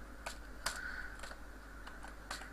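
Keys clatter on a computer keyboard while someone types code, a handful of sharp clicks spread unevenly over a steady low hum with no talking.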